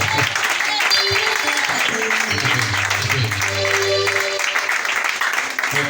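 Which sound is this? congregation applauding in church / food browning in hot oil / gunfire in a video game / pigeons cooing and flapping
congregation applauding in church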